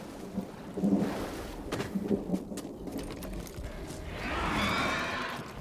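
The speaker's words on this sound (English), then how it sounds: "Ooh, thunder." Thunder rolling in the Star Wars Jedi: Fallen Order video game, low rumbling booms with crackling bursts over rain, a swelling roll near the end, fairly loud with no talking.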